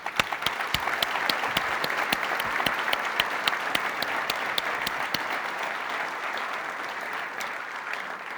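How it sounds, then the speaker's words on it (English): At a security conference talk, an audience breaks into applause, a full crackle of many hands with distinct nearby claps standing out, steady and loud for about eight seconds. "let's give everyone a round of applause"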